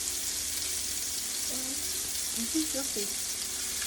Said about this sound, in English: And these dumplings are just going to cook for about a minute